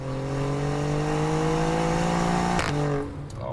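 A Ferrari Monza SP2 sports car engine drones with a steady rising pitch under load, close and continuous, then briefly cuts off with a sharp shift before picking up again.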